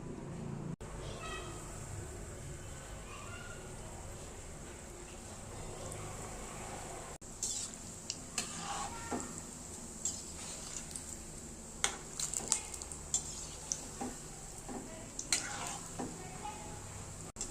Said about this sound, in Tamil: எண்ணெய் நல்லா காஞ்சோன்னு சிம்மில் வச்சுட்டு ஃப்ரை பண்ணணும்.